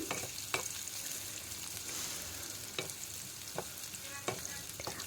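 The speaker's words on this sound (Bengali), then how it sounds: "এখন পেঁয়াজ একটু নেড়ে চেড়ে নিচ্ছি" Sliced onions fry in oil in a pan, a soft continuous sizzle broken by several sharp spatula scrapes as they are stirred, close and fairly quiet.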